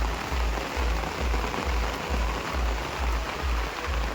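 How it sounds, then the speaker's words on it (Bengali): Heavy rain pouring onto a rooftop, a dense, continuous hiss of falling water with a steady low rumble underneath, loud and close, with no voices. "প্রচণ্ড বৃষ্টি হচ্ছে"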